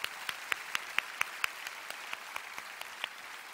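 Congregation applauding at a church prayer gathering, a thin, distant patter of scattered hand claps with a few sharper, louder claps standing out in an irregular rhythm, no voices over it.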